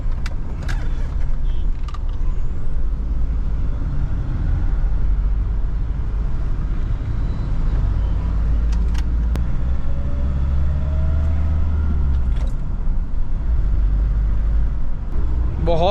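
A 2012 Mahindra Scorpio Classic diesel, converted, rumbles steadily from inside the cabin while driving, a low continuous engine drone with road noise and a few faint clicks.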